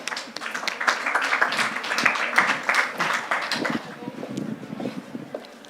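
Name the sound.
audience applause for panel speakers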